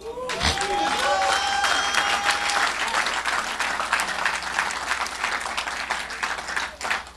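A church congregation breaks into sustained applause, dense clapping from a large crowd filling the room for several seconds, with scattered voices murmuring underneath.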